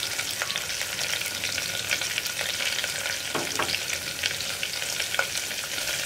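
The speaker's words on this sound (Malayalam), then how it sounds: "ഇതെല്ലാം ചേർത്ത് ഒന്ന് വഴറ്റിയെടുക്കുക." Sliced onion and curry leaves sauté in oil inside a pressure cooker, giving a continuous bright sizzle with a few short scrapes of stirring. It is close, steady and free of speech.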